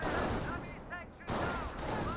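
Gunfire crackles in a Company of Heroes battle between US and Panzer Elite forces: dense bursts of rifle and machine-gun shots with a short lull in the middle, loud and continuous.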